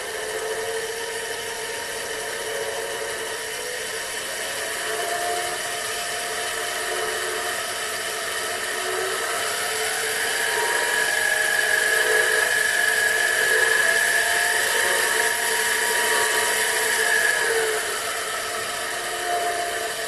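A 7x12 mini lathe fitted with metal change gears runs steadily and fairly quietly nearby, a continuous mechanical whir with a high whine that rises slightly partway through, alone without talk.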